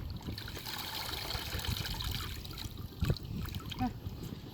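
Garden-picked cabbage is rinsed under running water in a colander, a close continuous trickle and splash with a couple of louder gurgles and handling noises.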